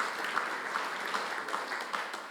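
An audience applauds during a political speech at a party summer conference, a steady wash of many hands clapping that stays even and fairly loud throughout, with no speech over it.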